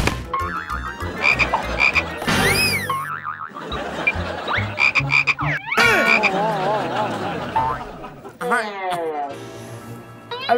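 Repeated frog croaks mixed with comic voices and music in a Spanish-language sketch show, loud and busy throughout, with bursts of talk over them.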